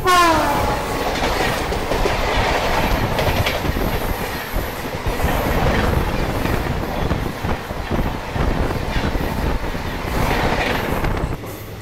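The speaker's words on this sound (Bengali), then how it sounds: "চলে গেল শিয়ালদা রাজধানী।" The Sealdah Rajdhani Express rushes past at close range, a loud sustained roar of wheels with steady clickety-clack over rail joints and a brief horn, fading slightly at the end.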